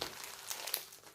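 Sticky plastic packaging from a diamond painting kit crinkles and rustles up close in a short burst of crackling while someone tries to open it.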